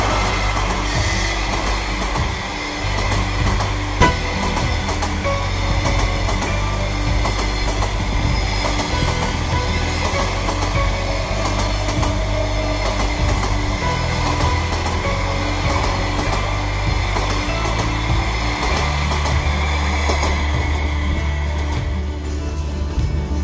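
Overnight passenger train 133 from St Petersburg to Kazan, hauled by an EP1M AC electric locomotive, rumbling steadily with a deep continuous drone, rhythmic clickety-clack from the wheels and a faint squeal, loud and close throughout.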